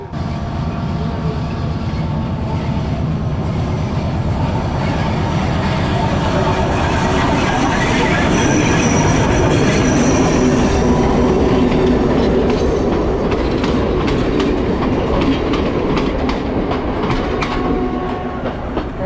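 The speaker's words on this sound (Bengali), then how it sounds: "আমি আসার সাথে সাথেই ট্রেনের আওয়াজ শুনতে পাচ্ছি। দেখতেছেন ওরে ভাই ট্রেন কামিং, দেখেন।" A train passes close by at Nine Arch Bridge in Ella, a loud continuous rumble with rhythmic clickety-clack from the wheels on the rails, building and holding through the passage.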